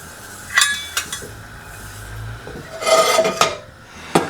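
A spoon stirs grits or polenta in a pot on the stove, giving a few sharp metallic clinks and scrapes against the pot with quieter rubbing between them, close and without talk.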